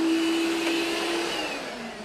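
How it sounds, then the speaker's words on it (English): A vacuum cleaner hoovering indoors in the morning drones steadily and loudly with a constant high whine, running alone without speech. "Hoovering at 8:30 in the morning."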